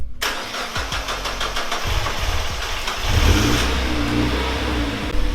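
A Mazda MX-5 cranks and fires up after a fuel filter replacement, then settles into a steady, close idle that grows slightly louder and fuller partway through.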